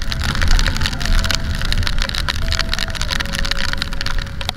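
Heavy rain pours steadily during a motorbike ride through afternoon traffic in Baguio City on a Yamaha Mio i 125 scooter, a dense, loud hiss of water with a low engine rumble and faint passing tones underneath.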